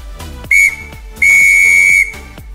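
A whistle sounds out a single Morse code letter: one short dot, then one long dash, each a steady piercing tone, loud and close, with no talking.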